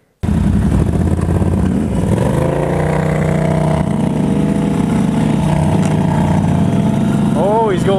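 A Polaris off-road vehicle engine catches and runs, rising into uneven revving with wavering pitch, loud and close, while people talk over it.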